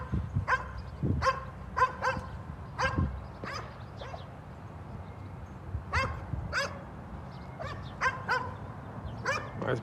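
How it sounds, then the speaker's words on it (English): A chocolate Labrador barks insistently in short clusters of sharp, close barks, pausing briefly between volleys. "Chocolate Lab not too happy here as we go."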